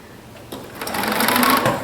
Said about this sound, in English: See, that just sewed over the pin, no problem.